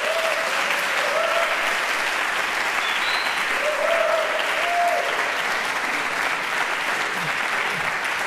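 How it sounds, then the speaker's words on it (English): Audience applause for the Melbourne University trombone choir at a trombone festival, a dense continuous clapping with scattered cheers and whoops rising over it. "Let's give them a big applause."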